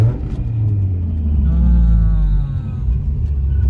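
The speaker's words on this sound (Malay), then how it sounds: "Jadi tengok ni drop gear 3." A Mazda RX-8 rotary engine rumbling as it drops into third gear, a close, deep engine note that rises and swells then settles, with someone talking over it.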